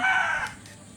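A single pet chicken's call, loud and close, a short raspy crowing note that fades out within about half a second.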